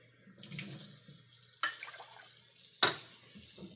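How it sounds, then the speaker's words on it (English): Tap water runs into a pot to cook couscous in a home kitchen, a soft steady splashing with two sharp clanks of metal partway through. "Go ahead and get your water in the pot."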